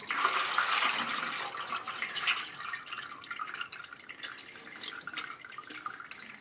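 Transmission fluid from a 2015 Toyota Venza pours into a drain pan as a steady, close trickling splash that is strongest at the start and then continues more unevenly.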